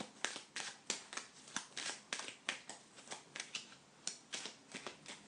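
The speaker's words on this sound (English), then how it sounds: "Just going to shuffle your cards for you." Rapid riffling bursts of a Lenormand card deck being shuffled, about a dozen quick rustling flutters in steady succession, close and fairly quiet.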